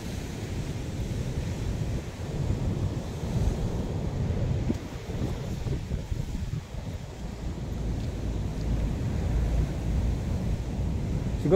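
Strong sea waves surge and crash against a badly damaged coastal revetment wall, a continuous heavy roar of surf mixed with gusting wind buffeting the microphone, with no talking.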